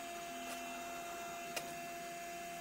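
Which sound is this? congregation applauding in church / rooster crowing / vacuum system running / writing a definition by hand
vacuum system running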